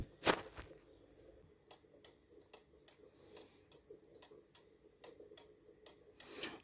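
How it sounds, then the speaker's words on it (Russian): A cuckoo clock ticks in a steady, even rhythm of faint, sharp wooden clicks close by, opening with a louder knock and a rubbing handling noise and ending with another knock, with no talking. "часы у меня стоят прямо, получается, и тикает"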